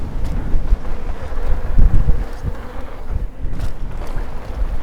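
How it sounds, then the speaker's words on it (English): Wind buffeting the microphone at a mountain bike park in Wales, producing loud, low, irregular rumbling gusts that swell and drop over several seconds with no speech. "It's a little bit windy now."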